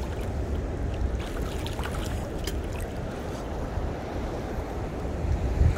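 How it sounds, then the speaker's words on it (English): Low, roaring rush of ocean surf on a Honolulu beach, heard close up with wind buffeting the microphone, a continuous churning wash that swells slightly toward the end. "You hear the roar of the wave."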